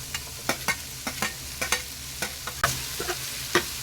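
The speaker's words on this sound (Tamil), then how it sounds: "இதையும் நல்லா வதக்கிக்கலாங்க" Finely chopped large tomato stirred into softened vegetables in a pan, with a steady sizzle broken by a regular series of sharp spoon scrapes and knocks against the pan, close and fairly loud.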